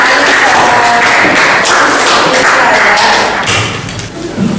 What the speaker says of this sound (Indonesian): Tepuk tangan untuk Mbak Najah dan